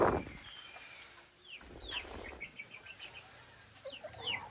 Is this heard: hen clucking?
yes